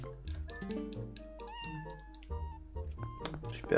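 A cat meows several times in the video game Zelda Twilight Princess, the calls close and clear amid the game's layered musical tones.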